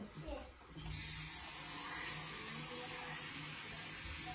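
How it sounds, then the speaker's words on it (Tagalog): A tap runs water into a pot for cooking breakfast, a steady, full hiss that starts abruptly and continues unbroken at close range. "maglagay muna tayo ng tubig sa likod."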